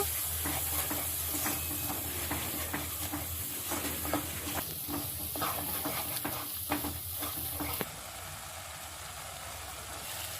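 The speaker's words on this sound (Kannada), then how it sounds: "ಚೆನ್ನಾಗಿ ಹಸಿ ವಾಸನೆ ಹೋಗೋವರೆಗೂ ಮಸಾಲನ ಫ್ರೈ ಮಾಡ್ಕೋಬೇಕು" Steady sizzling of masala paste frying in a hot pan with repeated scraping and stirring strokes, close and continuous, the hiss easing slightly near the end.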